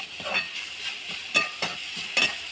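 Oyster mushrooms being stir-fried in a pan for a village-style dish, with several distinct scraping strokes of a spatula, spaced irregularly, over a light steady sizzle, close and fairly loud.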